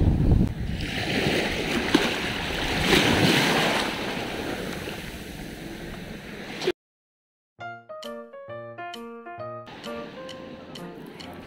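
Surf washing onto a white-sand beach at Puerto Galera in the Philippines, a steady loud wash with wind buffeting the microphone, then a sudden cut to a short tonal musical passage.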